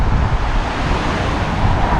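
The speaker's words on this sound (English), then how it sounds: "But this is way too windy." Strong wind buffets around an RV in a steady, loud, roaring rush with low gusty rumble throughout, no voices.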